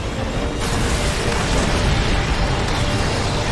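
Air strike explosions in the video game Earth Defense Force 4, a dense, continuous roar of blasts and rumble that stays loud and heavy throughout with no pauses.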